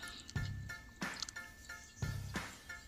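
Water from a solar pump drawing from a 700-foot borewell, splashing and dripping in an irregular pulsing rhythm, with low gurgling bursts about once a second, fairly faint and close.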